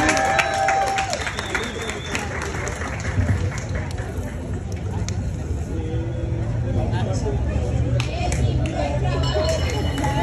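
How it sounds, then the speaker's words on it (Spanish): A crowd at a Central American festival in Salt Lake City applauds the Nicaraguan community outdoors, mixed clapping and cheering blended with chatter and voices, a busy sustained wash. "Un fuerte aplauso para la comunidad nicaragüense, por favor"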